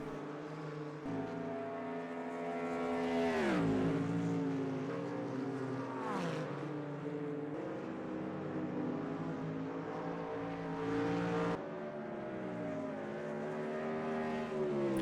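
GT1 race cars roar past at the Suzuka night race in a racing video game, engine notes rising and dropping sharply with gear changes and passing sweeps, loud and continuous throughout.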